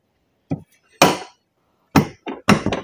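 A hammer strikes a U-joint on the axle of a 2008 Ram 2500 truck in sharp, close metallic blows: two single hits, a pause, then a quicker cluster of three to four strikes.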